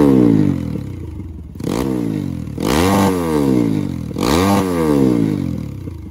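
A Kawasaki KLX dirt bike, bored out to 207cc and freshly cleaned of carbon for trail riding, revs up close and loud in three sharp throttle blips. Each blip rises and then falls back toward a rough idle, with no talking.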